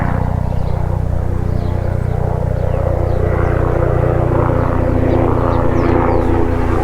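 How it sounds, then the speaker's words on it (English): A steady, loud engine drone with rhythmic rotor chop holds throughout as a rescue helicopter passes overhead a farm, with no voices. "That's the Westpac chopper there"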